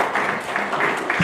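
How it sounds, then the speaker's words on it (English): Audience applause for a young man who played the national anthem, a brief burst of dense clapping from a crowd at an event, steady and moderately loud for about a second. "give him a round of applause again,"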